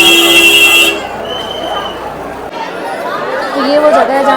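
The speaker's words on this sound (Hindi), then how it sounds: "गाड़ियों का शोर।" Street traffic near the path to the Bhairav temple on the Vaishno Devi pilgrimage route, with a sustained car horn blast at the start and further honks later amid crowd chatter and engine noise.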